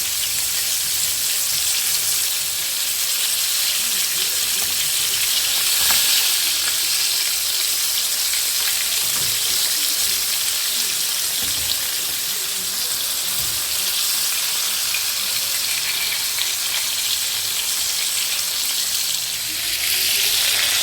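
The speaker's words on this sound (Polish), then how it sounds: "Niech się rybka smaży." Fish sizzles and crackles steadily in a hot pan, a continuous dense frying hiss throughout with no talking.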